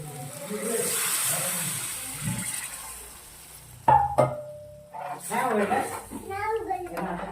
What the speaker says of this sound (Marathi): आणि आता पाणी टाकते